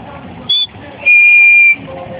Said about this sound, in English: I can whistle like really loud.